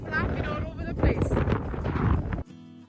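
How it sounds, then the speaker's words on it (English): Strong wind batters the microphone on a hilltop on the Isle of Benbecula, a rough, gusty roar beneath someone talking, cutting off abruptly near the end. "It's so windy"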